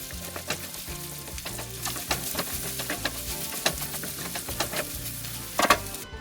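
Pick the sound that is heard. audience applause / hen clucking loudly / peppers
peppers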